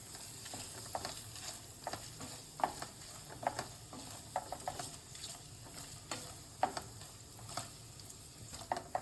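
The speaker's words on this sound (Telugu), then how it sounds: "ఇలా పన్నీర్ని మీడియం ఫ్లేమ్లో పెట్టుకొని వేయించుకోవాలి." Paneer cubes fry in a pan over a medium flame for a paneer cashew curry. A soft, steady sizzle is broken by scattered stirring scrapes and pops, faint and close, with no talking.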